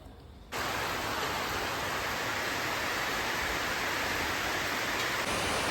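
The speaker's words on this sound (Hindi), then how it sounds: "बारिश आ रहा है" Steady heavy rain hisses without a break, a dense even wash of sound that starts abruptly and continues to the end.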